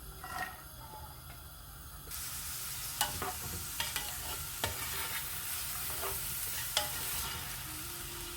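Two chopped onions frying in a karahi for a Lahori-style prawn curry, with a steady loud sizzle that swells after a couple of seconds, punctuated by scraping stirs of a spoon against the pan.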